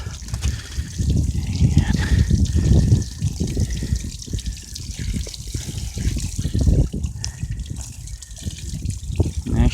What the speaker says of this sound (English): rinsing it off with water here